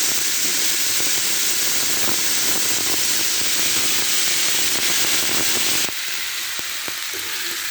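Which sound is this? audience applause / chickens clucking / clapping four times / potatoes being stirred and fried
potatoes being stirred and fried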